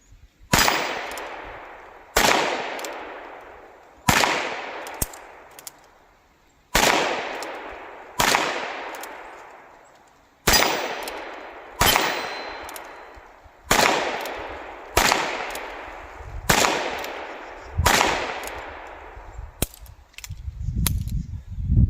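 A new 2023 Ruger Wrangler revolver with a 7.5-inch barrel fires outdoors in cold weather, about a dozen loud sharp shots with ringing decay, spaced roughly every one to two seconds.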